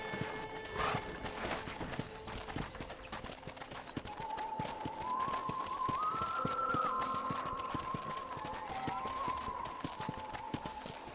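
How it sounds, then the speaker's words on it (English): Horse hooves clip-clopping at a steady gait during a ranch ride in Red Dead Redemption 2, rhythmic close hoofbeats continuing throughout, with a whinny-like tone midway and faint speech in the background. "I picked out a fine horse for you."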